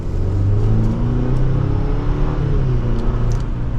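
A 2023 GMC Canyon AT4 crew cab pickup pulls hard from second gear in manual mode, its engine holding a steady, loud, close-up rumble and rising drone for the full stretch with no talk.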